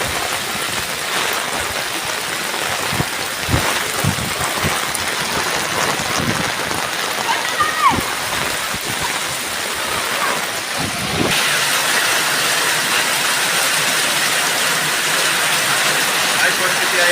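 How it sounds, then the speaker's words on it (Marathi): Heavy rain pouring down in Nalasopara, a dense continuous roar of drops on surfaces that keeps up at full strength throughout with no break. "भरपूर असा पाऊस पडत आहे."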